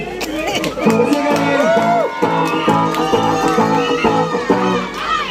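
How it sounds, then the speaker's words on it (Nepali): A crowd at a live band concert in Nepal cheers and shouts for the performers, a dense, steady roar of many voices with excited calls rising above it throughout. "एकचोटि उहाँहरूको लागि जोरदार ताली।"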